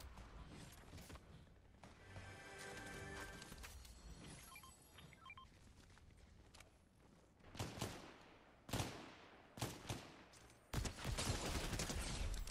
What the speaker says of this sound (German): Jemand schießt auf mich.